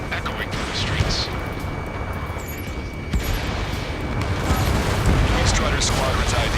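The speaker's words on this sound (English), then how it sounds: "Gunfire and the roar of jets echoing through the streets." Gunfire and jet roar echo through city streets under martial law in Ace Combat 7, a dense, loud, continuous rumble of explosions and engine noise with scattered sharp bursts, building slightly toward the end.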